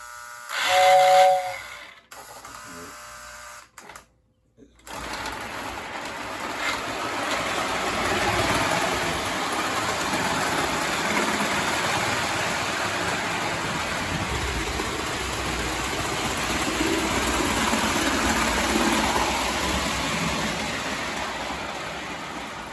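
A Lionel Berkshire model steam locomotive pulling its freight cars gives a loud whistle blast at the start, then settles into a steady hissing, whirring run that continues evenly for the rest of the stretch.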